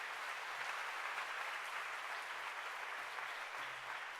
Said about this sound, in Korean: 우리 크게 박수 한번 하시죠